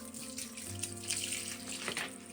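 A gallon of water poured into a high-efficiency washing machine drum, a steady close splashing and gurgling stream lasting a couple of seconds with no talking.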